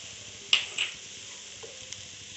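Vinegar and soy sauce being stirred into Schezwan veg fried rice in a hot pan, with a steady soft sizzle and a few scraping stirs of the spoon, no talking.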